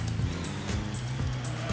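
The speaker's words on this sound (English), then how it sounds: "I like the sound of that car." Toyota Corona EX four-door four-cylinder car engine in the Gran Turismo video game, a steady buzzing drone whose pitch rises and dips with throttle, close and continuous throughout.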